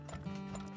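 Horse hooves clip-clopping in the video game Turmoil, a short steady patter of game sound effects over a constant low background hum.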